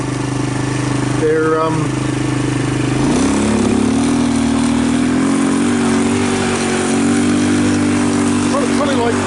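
A quad bike (four-wheeler) engine drones steadily while riding along sand trails in hot Queensland, Australia, the motor note rising after a brief shift and holding a continuous close roar, with someone talking over it.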